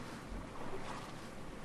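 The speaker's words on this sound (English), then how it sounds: "Hello, water, I see you! You can stop waving at me now" Ocean waves in the survival video game Stranded Deep, a continuous rushing wash of surf blended with wind-like noise, even and moderately loud throughout, with no voices.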